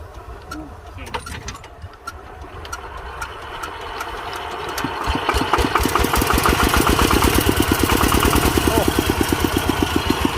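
A small single-cylinder Kubota walk-behind tractor engine sputters to life and settles into a steady, loud chugging rhythm, with faint birds in the background.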